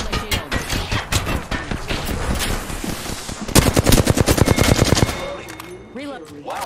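Rapid automatic gunfire in the video game Apex Legends, dense bursts of shots with a faster, louder volley near the end and a short voice line after.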